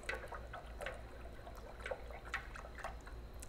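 Water sloshes and trickles inside a container as it is mixed or shaken with bleach, a soft, continuous splashing at low level with small repeated surges.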